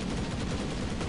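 Gyrocopter's flak cannon firing in the video game Dota 2, a dense, continuous rattle of rapid gunfire-like bursts, loud and unbroken throughout with no talking.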